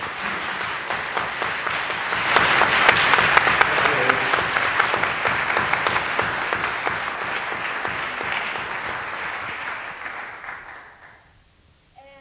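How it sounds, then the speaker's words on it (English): An audience at a Q&A event gives a big round of applause for three women, building quickly to loud, dense clapping that holds for several seconds and then fades to near silence. "So I'd just love to give those three ladies a big round of applause."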